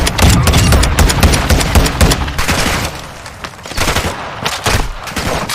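Rapid bursts of automatic gunfire and heavy booms in the video game Warzone, loud and close, dense at the start then thinning into sporadic shots and cracks toward the end.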